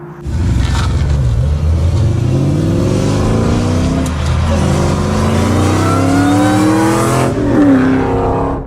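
Supercharged 4.6-litre V8 of a Ford Mustang SVT Cobra Terminator with an Eaton 112 blower, revving loud and close with rising and falling pitch sweeps across nearly nine seconds, no talk.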